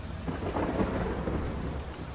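Steady heavy rain ambience with low rolling thunder rumbling throughout, a dense continuous wash of rainfall at even loudness with no voices.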